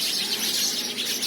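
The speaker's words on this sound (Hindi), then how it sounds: "यह जो ध्वनि इस चलचित्र में आप सुन रहे हैं, यह ध्वनि गौरैया की है।" House sparrows chirp in a garden thicket at dusk, a dense overlapping chorus of bright, rapid tweets that continues steadily and fairly close.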